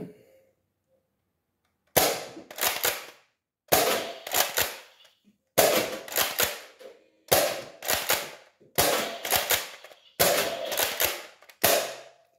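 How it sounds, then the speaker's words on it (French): Nerf Rival toy blaster firing foam balls, heard as repeated bursts of sharp snapping shots in quick clusters of three or four, separated by short silences, close and fairly loud. "On va passer avec des nerfs Rival. On a la nerf Rival classique."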